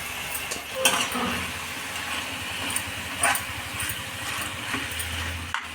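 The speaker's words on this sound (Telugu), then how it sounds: "చికెన్ అంతా వేసేసుకొని ఉప్పు ఉల్లిపాయ పేస్ట్లో బాగా ఉడకనిద్దామండి" Chicken with turmeric and salt cooks in onion paste in a pan, giving a steady, low sizzle broken by a few soft clinks and scrapes of stirring.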